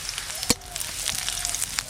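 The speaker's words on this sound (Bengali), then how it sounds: "তেল গরম হয়ে গেছে, গরম তেলে দেব রসুন কুচি। রসুন কুচি, দুটো শুকনো লঙ্কা।" Chopped garlic and two dried red chillies fry in hot oil in a kadai, making a faint, continuous crackling sizzle with one sharp utensil clink near the start.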